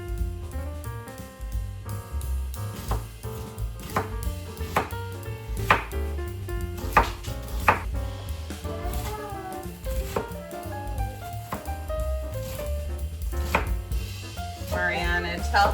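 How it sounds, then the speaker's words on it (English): An onion is chopped with a knife on a cutting board in a home kitchen while making chili, with crisp, repeated close strokes in an irregular rhythm over a steady tonal background. "Cut up our onion."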